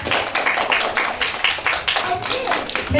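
An audience at a New Year concert claps steadily and rhythmically for a dance number, a dense run of hand claps close by with some murmuring voices underneath.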